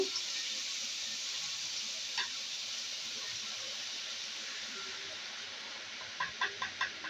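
Boondi batter drops into hot oil with a continuous bright frying hiss. A few soft clicks and taps sound mid-way, then a quick run of light taps comes near the end.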